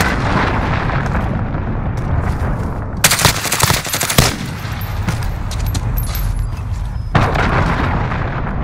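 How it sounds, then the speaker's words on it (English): Cruise missile strike in Call of Duty Modern Warfare: a loud, continuous roar of gunfire and blasts, with a sharp burst of explosions in the middle and heavy rumbling on both sides, with no voices. "Cruise missile incoming."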